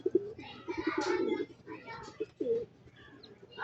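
Racing pigeons returning home after a release, checkered and white-feathered birds landing together, with soft repeated cooing and brief chirps nearby while someone talks over them.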